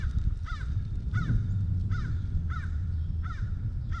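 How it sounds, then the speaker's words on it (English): Crows caw repeatedly outdoors, about five harsh calls at a steady pace over a low rumbling background. "every time I hear those birds"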